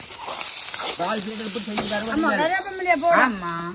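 Tomatoes sauté in a pan with a steady, soft sizzle and hiss running throughout, while a person talks over it.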